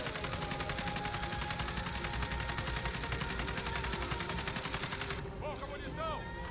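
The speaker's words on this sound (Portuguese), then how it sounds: "vou atirar na parede pra gente ver o recuo" An AUG rifle in Call of Duty Warzone fires a long, rapid automatic burst into a wall, loud and continuous, then stops abruptly and a few shell casings tinkle.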